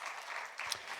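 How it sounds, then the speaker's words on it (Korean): A church congregation at a Friday evening worship service giving a brief burst of applause, fairly faint and distant. "하나님 경가의 박수 올리겠습니다"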